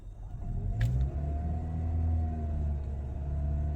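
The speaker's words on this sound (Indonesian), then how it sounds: "walaupun udah saya injak pol, nih, saya injak pol nih, dia nggak akan ngeraung kayak mobil biasa" A hybrid car accelerates hard at full throttle yet stays quiet, just a low steady rumble and faint rising whine, no roaring engine.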